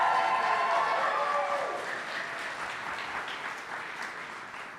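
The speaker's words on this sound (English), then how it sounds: "So now we can applause for everybody." A crowd of elementary school students and guests applauds in a school gathering, the clapping starting fairly strong and gradually fading over several seconds.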